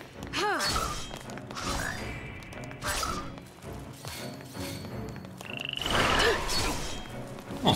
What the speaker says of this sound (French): Ah oui, des grenouilles.